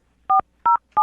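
Three evenly spaced touch-tone beeps as a telephone is dialed for a call, each short, clean and loud against near silence.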